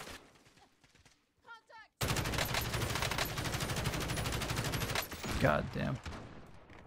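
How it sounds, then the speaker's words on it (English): Sustained rooftop gunfire in Call of Duty Warzone, a dense run of rapid automatic shots for several seconds, following quieter talk and joined by excited shouting near the end. "They're firing from another roof"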